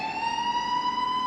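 An ambulance siren sound effect run through a flanger plays as a loud, steady, sustained electronic tone with a shimmering sweep, heard alone without any talk.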